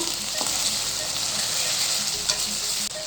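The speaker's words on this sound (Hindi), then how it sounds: "अदरक और लहसुन का पेस्ट लाइट सा मैंने भून लिया है" A steady, crackling sizzle of ginger garlic paste frying lightly in a hot pan, with faint stirring scrapes, close and continuous with no talking.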